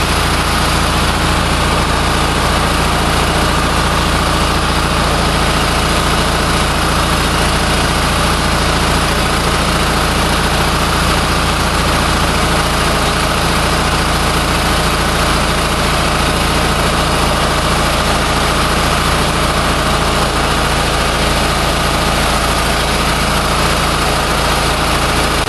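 A JXQ-10 generator set engine runs steadily for the whole stretch, a dense, continuous, loud drone with a low hum and no breaks, under test for fuel clogging problems.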